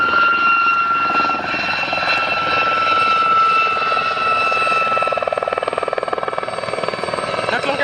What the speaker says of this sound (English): Brings the helicopter right up to where we are, and he bows.